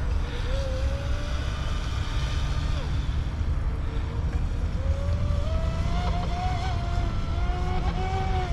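A UDI Arrow 5 RC boat on rippled water runs at full throttle, its high electric motor whine rising and shifting steadily over continuous wind and water noise throughout.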